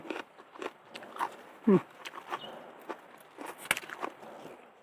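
Fresh, crunchy snow peas picked straight from a home vegetable garden being bitten and chewed close up, with several crisp snapping bites followed by moist crunching between them.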